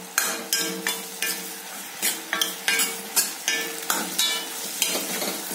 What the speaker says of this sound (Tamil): நம்ம அதுக்கு ஹை ஃப்ளேமில் வச்சு நல்லா வணக்கணுங்க